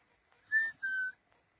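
Two short, clear whistled notes in quick succession, the second slightly lower, alone against near silence.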